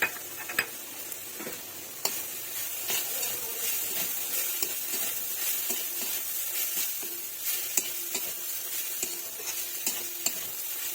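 Raw coconut and patali jaggery sizzle in a hot kadai while being stirred, a steady close hiss punctuated by repeated sharp scraping clicks of the spoon against the pan.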